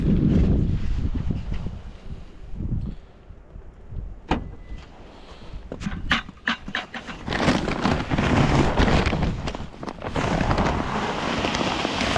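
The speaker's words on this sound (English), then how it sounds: "It's windy." Winter wind gusts buffet the microphone in a steady low roar during snow shoveling, with a few sharp clicks and thumps mixed in; no one speaks.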